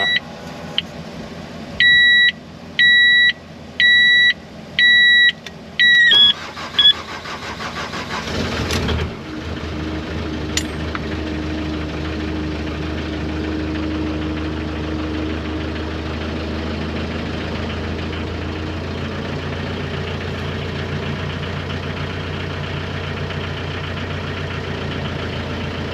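A 2006 Terex Schaeff HR18 mini excavator, cranked with a Jeep hooked up to it, gives a series of repeated warning beeps, then the diesel starts and settles into a steady low idle that runs on alone.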